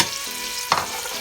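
Okra sizzles in a hot pan, a steady frying hiss broken by one sharp stirring clatter just past the midpoint.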